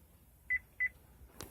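Two short, identical electronic beeps in quick succession from a Chevy keyless entry module being programmed, quiet and close, followed by a faint click.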